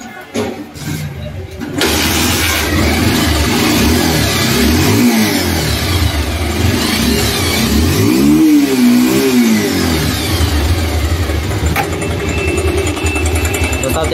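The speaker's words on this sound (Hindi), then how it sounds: "अब इसको किक लगा के चेक करते हैं।" A Bajaj Pulsar 150 motorcycle is kick-started and revs up, settling into a steady running rumble with a couple of throttle swells; a voice is briefly audible early on.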